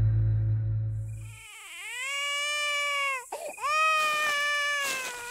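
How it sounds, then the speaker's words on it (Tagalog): A baby's wailing cry echoes through a dark forest at night, long drawn-out sobbing rising and falling alone in a quiet, reverberant space after a brief low rumble. "isang malamyos ngunit nakapanlulumong iyak ng sanggol ang umalingaw-ngaw sa dilim"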